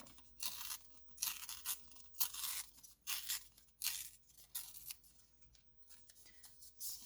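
Printed paper torn by hand for a card sketch, heard as a series of quick dry rips and crinkles in bursts, close and fairly loud, with no talking.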